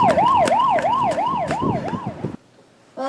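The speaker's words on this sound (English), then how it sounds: "Wilson, get the ambulance driver to stop and drop off Foreman and Chase." An ambulance siren wails in a fast, regular up-and-down cycle, loud and close. It cuts off abruptly near the end, leaving brief quiet before another sound starts.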